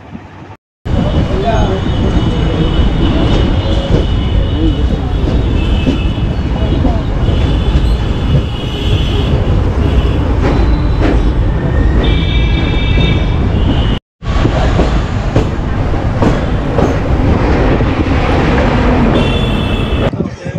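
Kanchanjungha Express passenger train (13173, Sealdah to NJP) running on rails toward Bardhaman, a loud continuous rumble heard from on board with rhythmic clatter and faint squeals, and a brief dropout midway.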